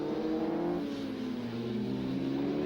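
A racing motorcycle at a Mallory Park endurance race roars past close by, a loud sustained engine note with a falling pitch as it goes through, alone without talk.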